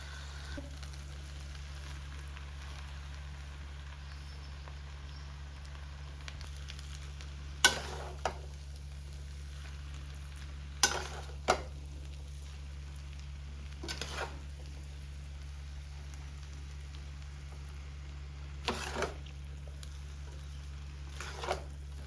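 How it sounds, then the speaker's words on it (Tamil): Rice noodles are stir-fried with oil in a pan: a soft sizzle over a steady hum, broken by occasional sharp scrapes and taps of the utensil against the pan. "ட்ரை பண்ணும்போது கூட நம்ம வந்து ஆயில் சேர்த்து நல்லா மிக்ஸ் பண்ணிக்கலாம்"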